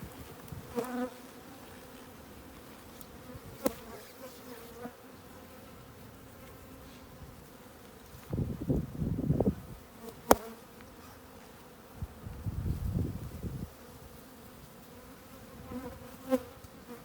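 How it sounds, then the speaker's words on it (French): Honeybees buzz around a Dadant nucleus hive being split, with faint steady humming and two louder passes of a bee flying close by amid occasional clicks and handling noises. "pour éviter qu'il y ait trop d'abeilles qui s'envolent de la ruchette"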